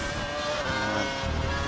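A Formula 1 car in the F1 2012 game drives in time trial mode, its engine a steady, loud high-pitched whine with a brief low rumble shift near the end.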